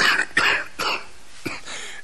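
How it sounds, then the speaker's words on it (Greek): A man in a radio drama of Crime and Punishment who smokes a pipe and has a respiratory ailment coughs three times, harsh and close, in separate bursts with brief throat noise between. "Βήχω με πειράζει το αναπνευστικό και δεν καταφέρω να το κόψω."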